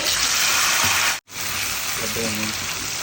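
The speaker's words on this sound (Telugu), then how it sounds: "నూనె వేడయ్యాక చికెన్ ముక్కలు వేసుకొని ఎర్రగా వేయించుకోండి." Chicken pieces frying in hot oil, a loud, steady sizzle and hiss that cuts out briefly for a moment and then resumes, with faint clinks beneath the crackling.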